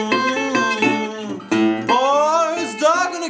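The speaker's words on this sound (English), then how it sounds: "And then you play the 4-chord position," Acoustic blues guitar works through a four-chord position, with sliding, bending notes over a low bass, played close in a short phrase broken by a brief pause.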